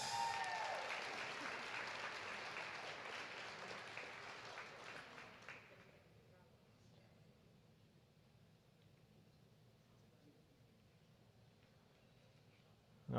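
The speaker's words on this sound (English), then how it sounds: "One more round of applause for these guys." Applause from a sports banquet audience fills the opening seconds, then fades away to a quiet room by about six seconds.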